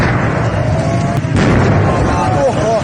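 Gas cylinders exploding in a burning LPG workshop in Shiraz: a loud, steady roar of fire and blasts with a sharp crack near the middle. Voices are heard underneath.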